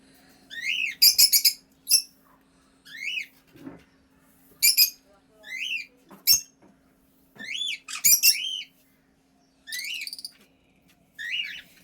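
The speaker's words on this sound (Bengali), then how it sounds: "এত আওয়াজ করছে পাখিগুলো আর ডাকছে।" Several birds call and squawk in short, repeated bursts of sharp chirps, spaced a second or two apart against a quiet morning background with a low steady hum.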